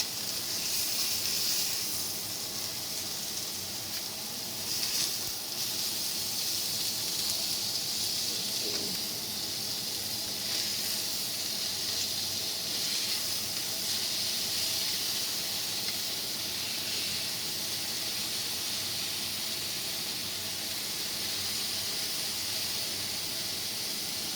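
Pork chops searing in a hot pan give off a steady, close hissing sizzle that holds for the whole stretch, with no talking over it.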